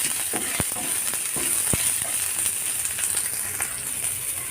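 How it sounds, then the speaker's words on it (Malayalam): Green chili, ginger and garlic sauté in hot oil, giving a steady close sizzle throughout, broken by a couple of sharp ladle taps against the pan. "അത് ഇതിലേക്ക് ഇട്ട് കൊടുക്കാം. നന്നായിട്ട് വഴറ്റിയെടുക്കാം."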